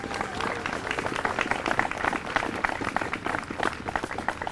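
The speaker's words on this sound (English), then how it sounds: "Let's have a round of applause for all of our veterans." A crowd claps steadily and densely at a veterans parade in Clarksville, Montgomery County, a continuous outdoor round of applause from many hands at moderate distance.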